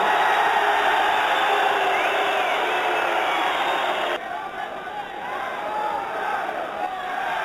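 Boxing crowd in an arena roaring for Manchester challenger Najib Daho, a continuous loud wash of cheering and noise with a slight drop partway through, carrying on without pause.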